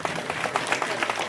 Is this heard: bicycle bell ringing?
no